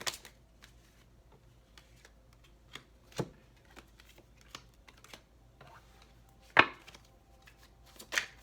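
Tarot cards being shuffled in close, quiet riffles and taps, a scattered run of soft rustles and sharp clicks with a couple of louder snaps.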